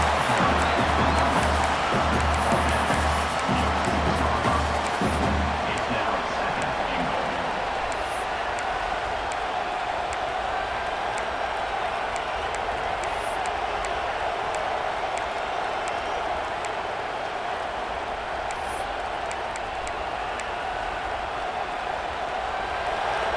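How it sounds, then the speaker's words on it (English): Stadium crowd roar in the College Football 26 video game, steady and loud throughout, a dense wash of cheering that rises as a home defense faces a red zone stand. "This crowd is trying to inspire this defense to make a big red zone stop"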